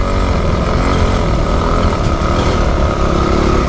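Motocross dirt bike engine droning steadily and loudly throughout while riding a lap, a dense unbroken buzz with no talk.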